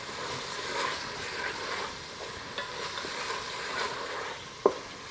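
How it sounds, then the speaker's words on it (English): Ground beef sizzles steadily in a Ninja Foodi while a utensil stirs it, soft scraping under a constant frying hiss, with one sharp tap near the end; close and fairly quiet, no talking. "I think this is the final stir"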